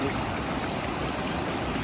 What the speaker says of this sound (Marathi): नदी वाहते, पाणी किती स्वच्छ आहे